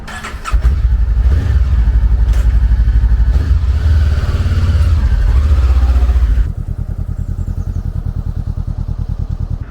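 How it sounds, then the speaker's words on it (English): A motorbike is taken out of a garage, its engine running with a steady, close, throbbing idle pulse that drops to a quieter, thinner putter partway through as it moves outside; no voices. "Well, this is the shot now where we're going to take the bike out the garage."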